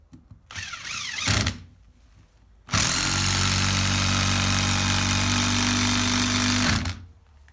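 DeWALT DCF887 cordless impact driver driving a screw, a loud sustained hammering buzz running for about four seconds after a brief earlier burst, then stopping abruptly.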